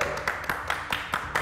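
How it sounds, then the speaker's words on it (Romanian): A small group claps in a few loose, irregular bursts, close and fairly light, over a short stretch. "Hai, aplaudați voi toți"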